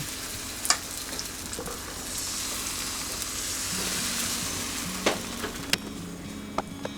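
A meat crepe sizzles steadily in a frying pan, a continuous bright crackle with a few sharp clicks and taps of utensils scattered throughout, close and alone.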